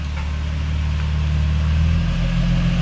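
A Nissan 350Z idles and creeps while being parked in a tight space, its engine a steady, low, close hum that shifts slightly in tone near the end.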